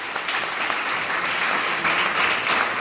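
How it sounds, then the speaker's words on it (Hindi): Loud, sustained clapping from an audience at a training event in Digha, an even wash of many hands that carries on without a break and rises a little toward the end. "रिकॉर्डिंग्स के लिए जोरदार ताली होना चाहिए दोस्तों"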